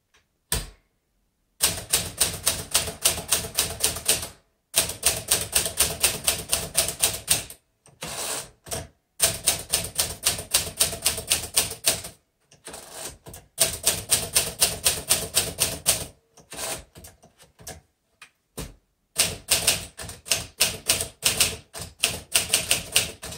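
A 1949 Smith Corona Silent manual typewriter with 12 characters-per-inch type is typed on a slick surface. Bursts of crisp, rapid keystrikes come in rhythmic runs of a few seconds each, close and clear, separated by short pauses.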